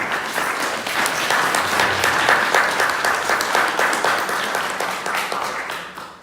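Audience applause after a spiritual discourse at an anniversary celebration, a loud, dense wash of clapping from a large crowd that holds steady for several seconds before starting to thin out.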